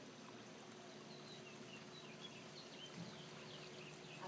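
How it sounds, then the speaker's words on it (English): Water pours steadily over a waterfall, a continuous rushing wash heard at moderate distance with no voices. "This is the waterfall."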